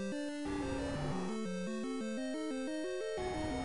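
Chiptune square-wave tones from a boss encounter in the NES game The Legend of Zelda, a stepping sequence of pitched beeps changing every fraction of a second, steady and fairly quiet with no talking.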